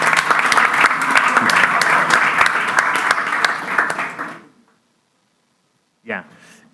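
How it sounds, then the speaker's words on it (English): Loud, dense applause from a conference audience at the Hellenic International Business Angels Summit fills the first four seconds, then stops abruptly into near silence before a brief voice speaks at the end. "Big applause for Marco"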